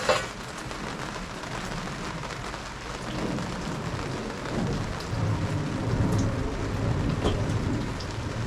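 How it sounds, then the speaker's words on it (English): Steady rain pours outside a garage during an engine swap on a 1994–2001 Acura Integra, a dense continuous hiss of drops on surfaces with low rumbling underneath, swelling slightly louder toward the end. "It started raining right now"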